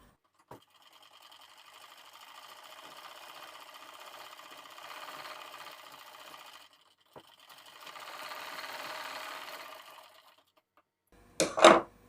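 Stitching a folded blouse strip, a sewing machine whirs in two separate runs split by a short pause, starting and ending with sharp clicks, the second run rising slightly louder.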